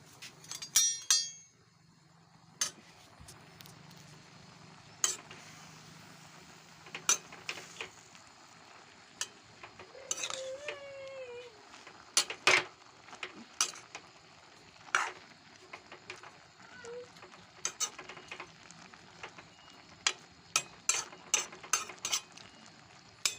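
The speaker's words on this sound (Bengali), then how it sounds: "শাকটা একটু ভালো করে নেড়ে দেবো এখন" Spinach greens being stirred in a pan with a metal spatula, repeated sharp clinks and scrapes against the pan at an uneven pace, close up with faint background noise.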